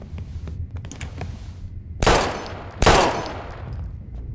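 Two loud gunshots from the Life is Strange video game crack out roughly a second apart, each a sharp burst with a ringing tail, over a low rumbling ambience.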